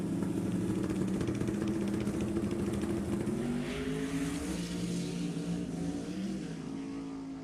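West Coast Outlaws drag race cars making a side-by-side shakedown pass down a strip, their engines blaring in a loud sustained roar that climbs in pitch through shifts and holds steady with no talk.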